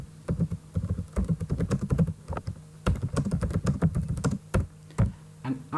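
Rapid, steady typing on a computer keyboard while entering a product review, close and crisp key clicks in continuous bursts with brief pauses, no speech.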